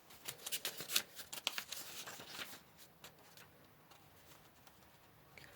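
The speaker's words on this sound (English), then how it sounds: "then we will shuffle the rest of the cards out as we go" Tarot cards being shuffled by hand, a quick run of soft, papery riffling slaps that thins out into quieter, scattered card movements.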